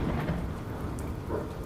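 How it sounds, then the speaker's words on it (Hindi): Rain pours steadily on surfaces with low rumbling thunder beneath, a dark, continuous stormy night ambience with no voices. "शाम से बारिश शुरू हो गई थी। अंधेरी काली रात थी।"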